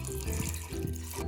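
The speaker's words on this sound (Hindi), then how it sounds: "इसमें डालेंगे 1 कप पानी ताकि ये गल जाए।" A cup of water poured into a pressure cooker holding mutton and garlic cloves, giving a continuous close splashing pour over a low kitchen hum.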